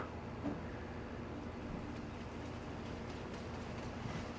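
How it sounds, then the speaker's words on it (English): A train rolls past in the farming video game Farm Sim 25, a steady low rumble with faint rail clatter holding at an even level throughout, no talk over it. "Good action with the train coming around there."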